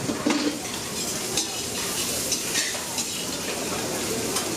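Stir fry sizzling at a food station aboard the Holland America Koningsdam cruise ship, a steady hiss with scattered clinks of pans and utensils throughout, moderately near.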